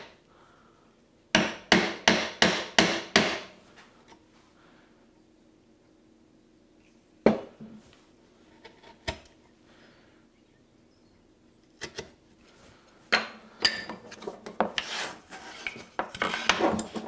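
A steel chisel chops away dovetail waste in wood, struck by a mallet in a quick run of five or six sharp blows, then isolated single knocks, and finally a denser flurry of close, loud taps.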